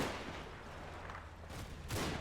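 Bunker gunfire in the World War II strategy game Combat Mission: Red Thunder, with distant rattling bursts and a rumbling battle background, a sharper, heavier report near the end.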